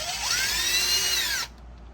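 A power tool whirs briefly as it drives a bolt into a differential brace on a Nissan 350Z, a close, high-pitched spin rising and then cutting off abruptly into near silence.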